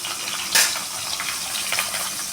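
A katla fish head frying in hot oil in a wok, a sharp loud sizzle burst as it hits the oil, then a steady crackling fry that carries on close by.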